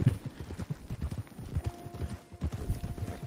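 Horse hooves clip-clop steadily in Red Dead Redemption 2, a quiet rapid rhythmic patter of hoofbeats on the ground from a struggling, weakened horse.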